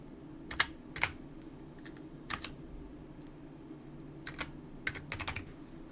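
Quiet keyboard typing comes in short clusters of clicky keystrokes separated by pauses, close by, with a low steady hum underneath.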